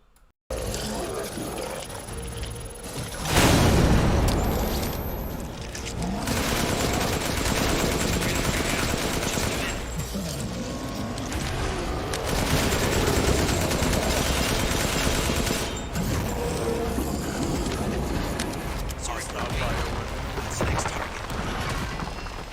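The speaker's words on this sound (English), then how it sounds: "in between just keep shooting him, throw all your grenades at him" Heavy gunfire and explosions from a boss fight in Resident Evil Village on Village of Shadows difficulty, with loud continuous bursts, booms and roaring throughout, no speech.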